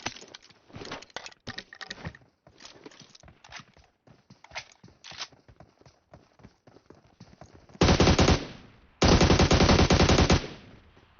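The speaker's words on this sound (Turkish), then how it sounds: "Orada havai fişek var." Rapid crackling bursts pop in irregular clusters, then two loud sustained volleys of dense crackle erupt, like fireworks going off nearby.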